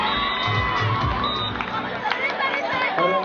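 Crowd cheering and shouting at a final match between an Arena team and a Goan team, a dense continuous roar of voices with children's shrieks rising over it throughout.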